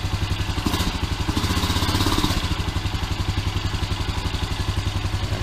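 A Honda Rancher 350 ATV engine, just overhauled and running again after two years, idles steadily with a rapid, even low thumping pulse and mechanical clatter, close and continuous with no talk.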